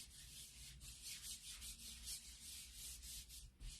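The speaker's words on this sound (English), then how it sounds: "So I'm just wiping up the excess paste here." Cloth wiping excess paste off a surface, quick rhythmic rubbing strokes with a soft scratchy texture, close and faint, with no voices.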